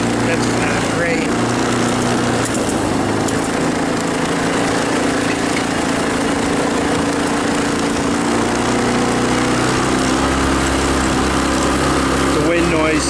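A Tao Tao Bull 150 ATV from a repair shop, ridden with a clicking front end, drones steadily and loudly, its engine buzz mixed with heavy wind rush and a voice talking over it.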